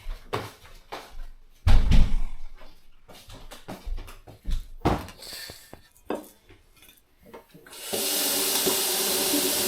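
Tap water filling a container for flowers, preceded by clattering and clinking of dishes and objects being handled, then a steady loud rush of running water from the faucet.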